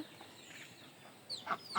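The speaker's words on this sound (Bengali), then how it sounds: "এখানে দেখুন হাঁস মুরগির ঘর হাঁস কিন্তু শব্দ করতেছে" Ducks in a duck and chicken coop let out a few faint, short calls that bunch up toward the end, over quiet background noise.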